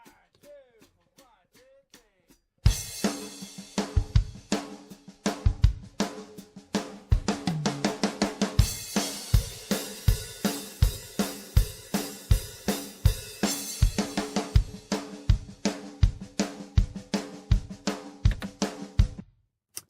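A mixed drum kit for a country song, punchy kick and crisp snare hitting in a steady groove with cymbal wash, clear and upfront after a brief quiet lead-in, with no voices.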